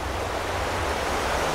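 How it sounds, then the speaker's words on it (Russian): Sea surf at Nha Trang, Vietnam, rolling in as a steady, continuous wash of broadband noise with some wind, with no voices. "Море слышно."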